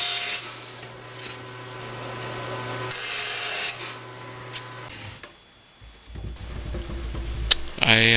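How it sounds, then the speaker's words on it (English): Plywood corners of a wooden box bottom being trimmed by hand, a steady scraping, rasping cut running for several seconds close by, then stopping into quieter handling noises. "I need to trim the corners off of my plywood bottom."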